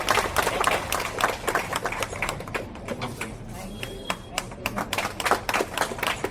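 Audience applause at a party office welcome event in Bandra West, a crowd of scattered claps under a speaker's voice and background chatter, with the clapping continuing steadily throughout.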